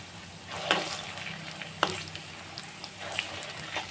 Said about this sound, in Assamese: এনেদৰে ওলট পালট কৰি ভাজি লৈ আছোঁ